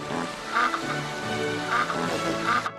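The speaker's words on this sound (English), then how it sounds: "download a novelty app that makes it emit the sound of a farting duck." A novelty phone app plays a comical farting-duck sound, a few quacking honks spaced about a second apart over a dense, steady background.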